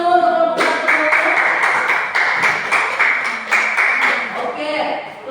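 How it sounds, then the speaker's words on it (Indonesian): A classroom audience claps for a student group after their presentation at a Catholic school teaching session, a few seconds of moderately loud, uneven clapping from a small group, with some voices mixed in. "Kita beri tepuk tangan dulu untuk kelompok 1."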